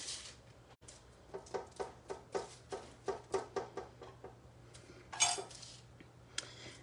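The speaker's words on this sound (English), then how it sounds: "Grab that fork and I'm going to squish the edges down so that the pumpkin filling doesn't come out" A fork presses and crimps the edges of pumpkin pastries on a half sheet pan, making a quiet, regular series of about a dozen soft taps and clicks, close up, ending with a brief louder clatter.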